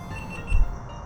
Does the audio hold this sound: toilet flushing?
no